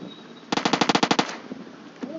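Automatic gunfire in PUBG: a rapid burst of about ten shots in even rhythm, loud and close, followed by a couple of faint isolated sounds.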